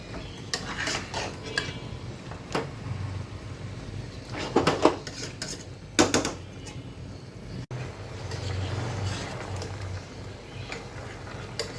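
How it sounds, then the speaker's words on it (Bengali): A spoon scrapes and clinks against a pan as creamy chicken curry with homemade sour yogurt is stirred, with irregular knocks and a low simmering bed underneath, close by and without any talking. "সেটা এখানে দিয়ে দিলাম তো এখন ভালো করে নেড়ে চেয়ে দিচ্ছি"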